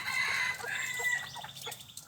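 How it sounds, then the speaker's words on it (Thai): A breeding rooster crows loudly and close by, one long drawn-out call followed by a second shorter crow that trails off. "เป็นพ่อพันธุ์ ไก่ต่อไก่ตั้งนะครับผมไก่ขันนับดอก"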